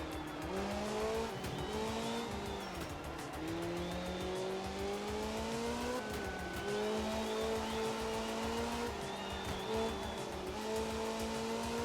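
A rally car in Art of Rally drives continuously, its engine whining up and down through gear changes with steady revving and occasional tire squeal, loud and close with no voices.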